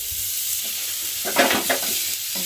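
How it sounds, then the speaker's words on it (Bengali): Chicken kathi kebab frying in butter on a hot tawa over high flame, a steady close sizzle with a few louder scraping stirs in the middle and near the end, no voices. "বাটারটাকে ভালোভাবে এইভাবে মিশিয়ে একটুখানি ভালো করে হাই ফ্লেমে এইভাবে ঘুরিয়ে ঘুরিয়ে ফ্রাই করে নেব"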